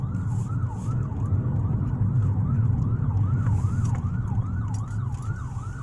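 An ambulance siren wails in a fast, repeating up-and-down pattern, loud and steady over low road rumble from traffic.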